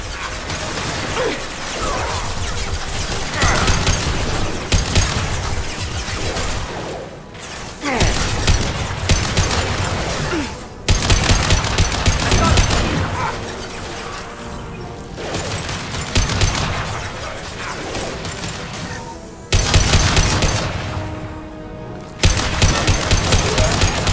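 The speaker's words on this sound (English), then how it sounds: "Firing an impact shot!" Impact shot gunfire in the video game Mass Effect 2: loud, dense bursts of rapid shots and mechanical clatter that repeat, broken by brief pauses, with no talking.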